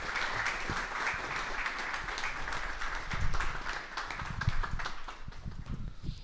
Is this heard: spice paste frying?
no